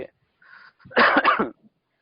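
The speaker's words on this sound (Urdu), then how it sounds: "تھوڑی کھانسی لگی ہوئی ہے" A man who is reciting Quran has a short, close cough, a brief throaty burst with a small lead-in before it, in otherwise quiet surroundings.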